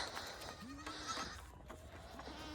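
Goats bleat inside a farm barn, with a few faint wavering calls at a low level over steady background noise and no clear talking.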